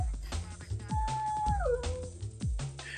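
A pet dog lets out a drawn-out, wavering howl that slides downward into a whine, close by, with a few short yips and bumps around it and faint voices at the edges.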